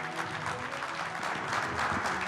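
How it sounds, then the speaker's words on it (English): Audience on stage at the WITT 2024 event gives a dense, steady round of applause, loud and close with no pauses. "let's give Mr. Abbott a big round of applause"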